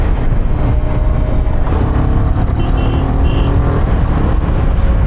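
A Royal Enfield Himalayan 450 motorcycle accelerates hard on an open road, its engine roaring steadily with loud wind rush, close and continuous, with traffic noise around.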